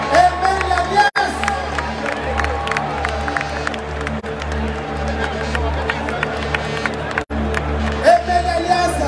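A big open-air stadium concert crowd at a show cheers and claps in a dense, continuous roar, with shouts poking through and no break in the noise.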